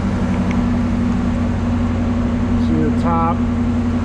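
A 1967 Camaro RS/SS convertible's 396 V8 engine runs steadily at idle, a loud low rumble that swells briefly near the end, with someone talking over it throughout.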